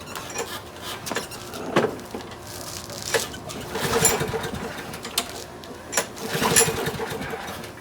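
Yard Machines lawn mower being pull-started after a no-start fault, with the fuel system drained and refilled with a little gas: several separate recoil pulls, each a short whirring rasp, close by, without the engine catching.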